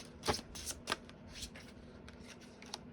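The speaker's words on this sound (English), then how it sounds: "These are very slippery cards, and I have very small hands, which does not make it easy to shuffle them" Slippery tarot cards shuffled by hand, a few crisp riffling bursts followed by lighter, quicker flutters, close and clear.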